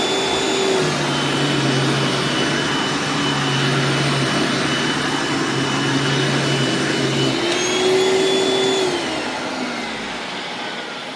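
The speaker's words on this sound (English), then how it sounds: "That brush roll makes a little bit of noise" An upright vacuum cleaner runs with its brush roll spinning, a loud steady motor drone with a whining tone that shifts slightly in pitch before easing off at the end.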